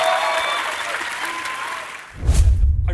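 An audience claps through most of the stretch, a bright even patter that fades after about two seconds, and then a voice breaks in close and loud.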